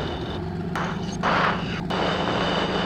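A P-51 Mustang with a water-cooled engine idles on the ground before a run-up, a steady, rumbling drone that swells briefly and then settles back.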